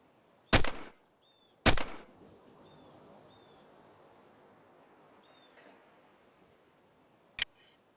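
An armor-piercing carbine fires in a video game: two sharp, loud shots about a second apart, followed by a quiet hum and a small click later.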